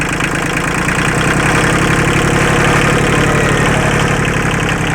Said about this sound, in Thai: เสียงเครื่องปกติครับ